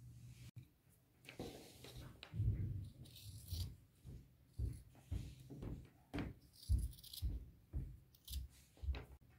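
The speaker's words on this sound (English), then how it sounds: "now I will cut out those triangles" Fabric scissors snip triangles out of a cotton T-shirt, a string of soft, close, rhythmic cuts and rustles at roughly one per second, quiet and without talk.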